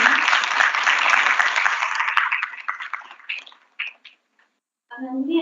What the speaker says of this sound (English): Please give a loud round of applause for welcoming him.